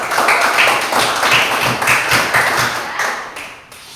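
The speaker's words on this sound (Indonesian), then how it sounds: "Kita berikan tepuk tangan untuk" Students applauding in a classroom during a lesson: a dense, lively burst of many hands clapping close by, holding steady for several seconds before thinning out at the end.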